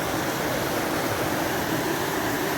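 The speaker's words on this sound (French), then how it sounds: "Petite cascade, là." A small waterfall along a hiking trail rushes in a steady, dense hiss, loud and close, with no break and no voices.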